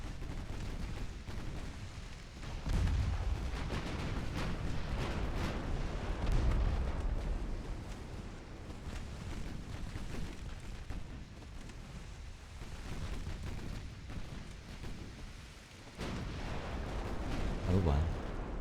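Naval battle in the Ultimate Admiral Dreadnoughts video game, two battleships firing artillery: deep booming shell blasts over a continuous low roar of sea and engine noise, some louder and nearer, with a voice talking over it.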